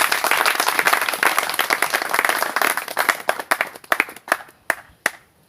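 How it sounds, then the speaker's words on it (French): Applause at a pastors' conference, a dense burst of many hands clapping that thins out into scattered separate claps before fading. "Applaudissons pour notre Seigneur Jésus."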